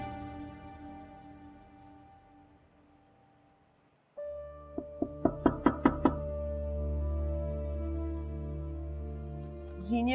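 A quick burst of about six sharp knocks on a door at a home in a drama scene, rising over a sustained background music score after a quiet opening.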